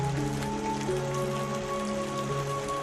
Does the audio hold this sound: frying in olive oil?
no